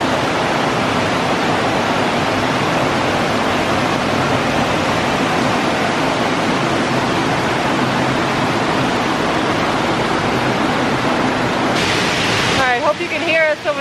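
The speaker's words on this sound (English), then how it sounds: "hope you can hear us over the waterfall. It's loud, but it sounds amazing" Loud roadside waterfall in Wears Valley near Sevierville, Tennessee, a constant close roar of rushing water throughout, with a brief voice near the end.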